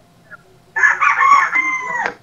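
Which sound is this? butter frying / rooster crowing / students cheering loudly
rooster crowing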